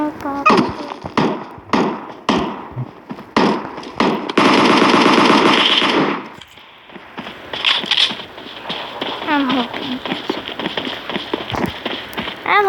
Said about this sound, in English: They're shooting randomly.